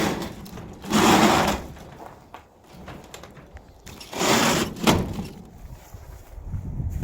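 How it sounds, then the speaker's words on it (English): A greenhouse sliding door rolls along its track in two loud scraping pushes a few seconds apart, with quieter rattling in between. "so it just has the sliding door."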